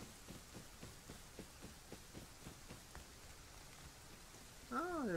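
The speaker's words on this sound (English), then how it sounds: "this rain is really annoying." Steady soft rain in the video game Rust patters on a surface, with faint rhythmic footsteps underneath and a brief warbling tone near the end.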